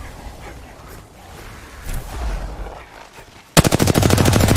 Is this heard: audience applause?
no